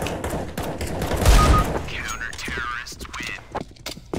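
Gunfire in Counter-Strike: Global Offensive, a dense burst of shots peaking early and then thinning into scattered pops, heard under some talk and game noise.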